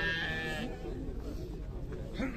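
Sheep bleat at a crowded livestock market, one clear drawn-out bleat at the start, then more muffled animal calls under constant chatter and nearby voices.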